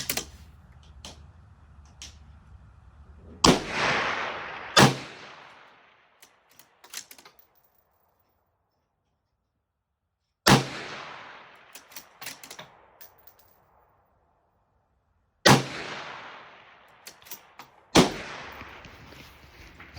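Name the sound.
gunshots from Mossberg MVP bolt-action rifle, 77 grain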